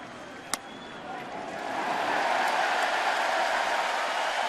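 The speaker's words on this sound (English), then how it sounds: "the fans are booing" Baseball crowd at Fenway Park during a Yankees–Red Sox game, a broad roar of fans booing that swells after a brief sharp crack and holds steady and loud.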